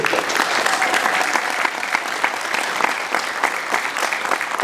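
An audience applauds steadily, dense clapping from many hands sustained without a break, fairly loud and close.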